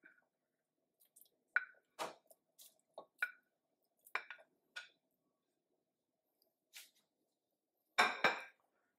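Meat dropped and stirred into a pot of red beans, with scattered soft squishy clunks and utensil scrapes spread across the moment, ending in a louder burst of mixing.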